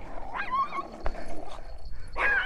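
Doberman Pinscher puppy giving a couple of short, high yipping barks separated by a pause, close by over faint background noise.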